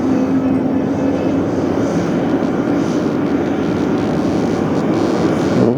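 An airliner approaching to land at JFK airport in New York gives a loud, steady, broadband engine roar that holds throughout with a sustained low hum and no talk.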